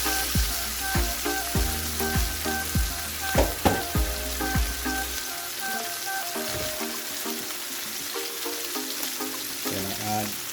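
Braised pork spare ribs returned to a hot pan for adobo, sizzling and frying steadily, with a few clattering utensil knocks against the pan early on and a constant crackling hiss throughout.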